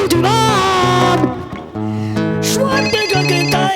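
A telephone rings in short electronic melodic bursts, loud and close, several repeated tones within a few seconds, amid musical comedy sounds.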